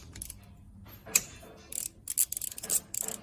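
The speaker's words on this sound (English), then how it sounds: "the next step will be to remove our 3 8mm bolts" A hand ratchet clicks in short, quick bursts while 8mm bolts are loosened during an oil change. The clicking is close, with a few separate runs of sharp clicks and quiet gaps between them.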